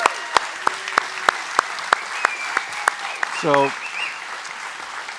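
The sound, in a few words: congregation applause for Cheryl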